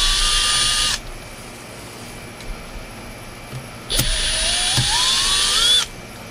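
A cordless power drill is backing screws out of a 2006 Honda Pilot. Two loud, close whirring runs rise in pitch as it spins up, with a short quiet gap and small clicks between them.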